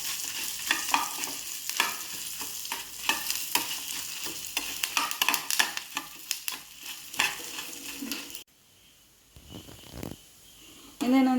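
Oil heating and frying in a pan while cooking Mangalore-style clam curry (marvai sukka): a loud, steady hiss with repeated stirring scrapes, then fading to a quieter sizzle near the end.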